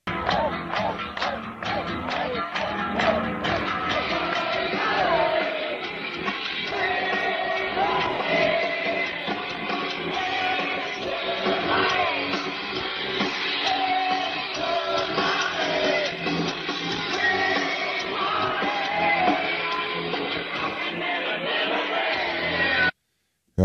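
A concert crowd yells and cheers over loud live band music, with dense, continuous noise filling the whole stretch, dropping out abruptly at the end.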